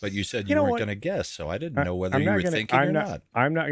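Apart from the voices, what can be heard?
None of the usual background noises is heard.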